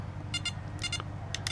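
A compact ToolkitRc M6D dual LiPo charger sounds three pairs of short, high electronic beeps at a steady pace, close and clear over a low background hum.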